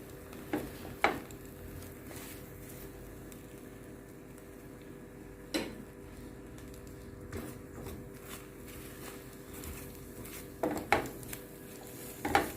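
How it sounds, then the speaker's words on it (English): Eggs being stirred and pushed around a pan for a light breakfast scramble, with a few distinct scrapes and clinks of a utensil against the pan over a soft, steady background hiss. "I wait for it to bubble up a bit like this before we begin to move it around the pan."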